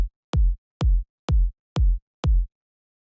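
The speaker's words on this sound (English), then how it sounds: "The first sound I have here is the kick" Standard tech house kick drum sample at 126 BPM, struck six times in a steady even pulse, each hit a punchy, booming low thump with a sharp click on top and a short decay, clean and alone.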